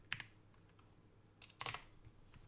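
Typing on a computer keyboard while setting up MapleStory game commands, a few faint, sparse key clicks in short clusters, close and quiet.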